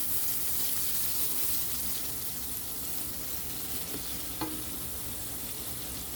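Radish and egg frying in margarine in a pan, a steady close sizzle throughout with occasional stirring clinks and scrapes, no talking.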